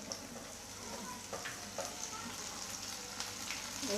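Spring onion greens fry with ginger-garlic paste in oil in a pan for a cauliflower and potato dish, a soft, even sizzle with occasional crackles, quiet and steady throughout.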